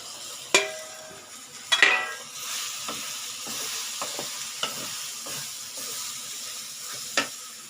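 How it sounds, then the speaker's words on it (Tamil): Tomato and onion with turmeric sautéing in a pan, a steady sizzling hiss broken by sharp spoon scrapes and clinks against the pan, fairly close, with no talking. "இப்போ இது கொஞ்சம் நல்லா வதங்கட்டும்"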